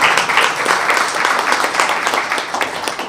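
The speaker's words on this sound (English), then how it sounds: "give them a round of applause anyway" A room of ham radio club members at a monthly meeting breaks into a steady round of applause, loud and dense, holding for several seconds before tapering slightly.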